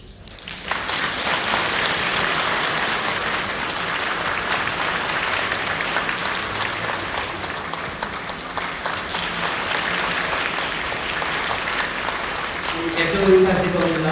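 Church congregation in a Korean service gives sustained, enthusiastic applause for honored members, a dense steady clapping that holds for the whole stretch, with a voice surfacing near the end.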